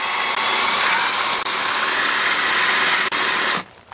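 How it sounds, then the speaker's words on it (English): A power drill whirs loudly and steadily for several seconds while backing an anchor out of brick, with a couple of brief dips, then cuts off abruptly. "We've got a drill."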